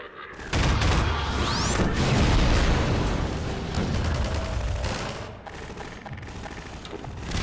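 Half-Life 2 firefight with grenade explosions and rapid gunfire, loud and dense, with booming blasts and volleys of shots rolling on continuously over several seconds.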